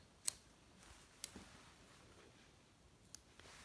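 Small scissors clip the butts off marabou feathers at a fly tying bench, with three or four tiny, crisp snips spread apart over near silence.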